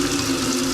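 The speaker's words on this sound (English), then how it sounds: "just take some nice cold fresh water, run it through." Steady running water pours into a sink, a continuous broadband rush with a low tonal hum underneath, close and moderately loud.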